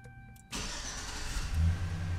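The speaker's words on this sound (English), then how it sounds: "Vehicle starts up." Classic GMC Chevy 1500 pickup truck engine cranks and catches via a remote starter after a brief quiet, then settles into a steady nearby idle with a slight rev swell.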